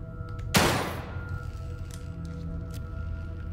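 A single loud gunshot-like blast fired in the video game The Evil Within 2, with a sharp attack and a decaying tail over a steady low ambient drone.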